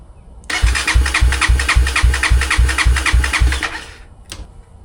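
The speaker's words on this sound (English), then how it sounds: "you're gonna start it for just about like 3 seconds or so" Honda CRF250F dirt bike engine cranking and catching, then running loud and close for about three seconds with a pulsing beat before cutting off.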